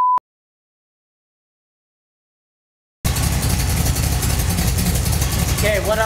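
A car engine idles at about 600 RPM, a steady close rumble filling the second half after a short beep and three seconds of silence.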